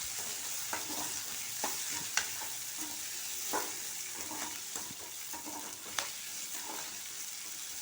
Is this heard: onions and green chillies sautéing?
yes